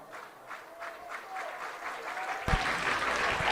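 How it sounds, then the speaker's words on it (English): Home crowd at a Lehi high school baseball game breaks into loud cheering and applause, faint at first and then surging to a full, sustained roar. "They were awfully quiet early in this game, but they are full-throated now"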